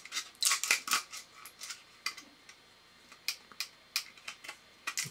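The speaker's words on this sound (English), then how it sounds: "Let's cut out just so we can see inside" Scissors snipping away a sacrificial section of a 3D print from a Bambu Lab A1 Mini, giving a run of sharp, close clicks and snips in irregular bursts, with no talking.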